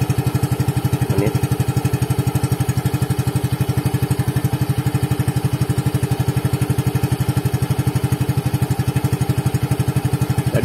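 A 2022 Yamaha Freego scooter that smokes slightly idles close by with a steady, even engine putter, its rapid regular pulses unchanging for the whole stretch.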